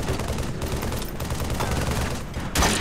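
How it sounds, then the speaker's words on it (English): Sustained gunfire from a Halo 3 multiplayer match, a dense continuous rattle of shots with a louder burst near the end, no talking over it. "They're shooting."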